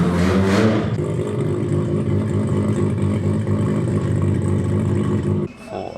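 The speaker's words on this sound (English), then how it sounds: "Another amazing FD getting ready to pull in" Mazda RX-7 FD time attack car at Suzuka Circuit, a loud close engine drone with rough mechanical texture, holding steady for several seconds before dropping off abruptly near the end.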